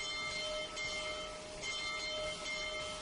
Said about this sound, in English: Let's listen to the bell.